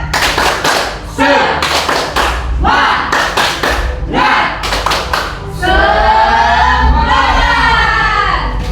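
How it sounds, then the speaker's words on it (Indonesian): A school class claps a rhythmic ice-breaker routine in a classroom, bursts of clapping and thumps in patterned groups alternating with the teacher's voice, ending in a loud group shout and clapping. "Tepuk tangan dulu. Tepuk semangat."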